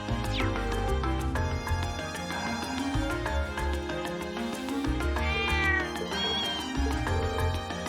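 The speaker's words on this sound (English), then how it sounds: "So, there's all sorts of places that we have some cats here." Cat and kitten meows from the video game Trails of Cold Steel sound over steady, dense background game music, with repeated short mewing calls mixed into the score.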